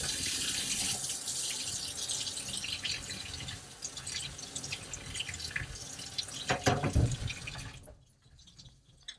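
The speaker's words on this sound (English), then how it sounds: "now I'll rinse off my comb" Water running from a tap to rinse a paint brush comb after cleaning it with Super Clean: a steady splashing flow with some brief louder bursts, then the water cuts off near the end.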